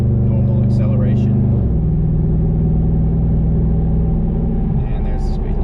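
A pickup truck on 35-inch tires accelerates normally toward highway speed at about 3,500 RPM. Its engine drone rises and shifts pitch inside the cab under a steady, loud road rumble.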